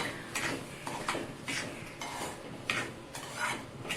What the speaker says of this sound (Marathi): परत हा भाजून घेतलेला रवा मी तुपात टाकलाय आणि पुन्हा थोडा भाजून घेते